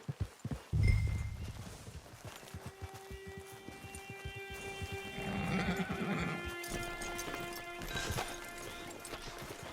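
In the video game Red Dead Online, a horse's hooves clip-clop in a quick rhythm, with a whinny near the start and a sustained musical tone ringing through the middle, all close and clear.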